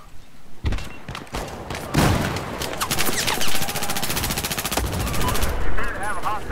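Suppressed rifle fire in the first-person shooter Battlefield 4, rapid bursts of muffled shots with explosions and battle noise dense throughout, a voice briefly talking over the action.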